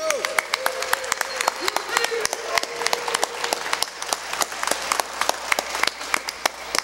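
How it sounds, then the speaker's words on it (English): Applause at a concert for bass player Hubie Crawford, with sharp, close individual claps standing out over a fuller crowd clapping, sustained throughout with a low background hum. "I'd like to give a nice round of applause to the wonderfully talented and great person"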